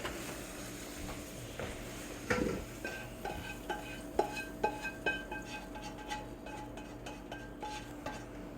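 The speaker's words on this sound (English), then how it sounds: "Drain the hamburger meat." Cooked hamburger meat in a pan being drained of grease, with soft sizzling and scraping, and scattered metallic clinks and knocks of a spoon against the pan.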